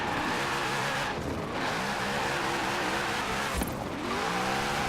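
In Forza Horizon 4, a car drifts with a continuous engine drone and sustained tire squeal. The screech swells and sweeps in pitch, with no talk over it.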